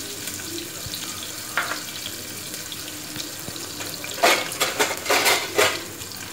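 Chopped onions fry with spices in a pan, giving a steady soft sizzle, then clattering bursts of stirring toward the end.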